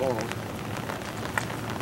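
Light rain patters softly and steadily on a surface, a faint continuous hiss with scattered drops and a brief voice at the start.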